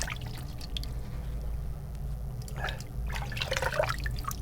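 Water runs and splashes in bursts while shaving soap is rinsed off after a shave with a Gillette Blue Tip razor, the trickling and dripping close by and loudest near the end.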